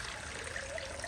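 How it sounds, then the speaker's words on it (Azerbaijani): Water poured into a pot over quinces, a steady soft trickling splash heard close and quiet for about a second with no voices. "üstünə çıxana qədər su əlavə edirəm"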